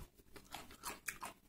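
Raw white cauliflower bitten and chewed up close, giving a series of sharp, wet crunches in quick irregular bursts with no talking.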